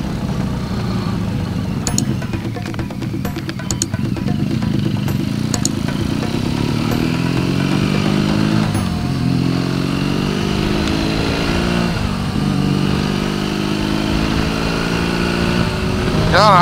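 A motorcycle engine runs steadily close by while riding toward the Baltic coast, a continuous loud drone with shifting pitch and occasional clatter throughout.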